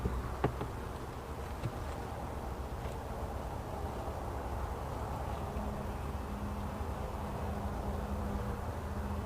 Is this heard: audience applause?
no